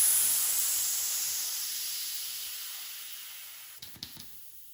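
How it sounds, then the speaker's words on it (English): Air hisses steadily out of a deflating bicycle inner tube valve, starting loud and close and slowly tapering off, ending with a couple of faint clicks. "We'll pretend we got it flat, so let's leave the air out of this tube."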